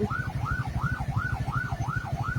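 An ambulance siren wails in a rising-and-falling yelp, repeating about every third of a second, from behind a car stopped in traffic waiting for an official convoy to pass, sounding close and steady over a low engine rumble.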